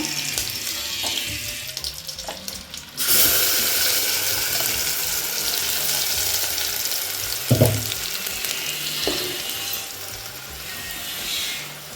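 Masala paste of ground mint and coriander is tipped into hot oil, and a sudden loud, broadband sizzle starts about three seconds in, holding steady with a few faint clinks over it.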